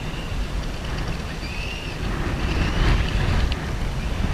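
Outdoor wind gusting across the microphone at an RC car test track, a steady rushing roar that grows stronger midway, with faint distant mechanical whine above it and no speech.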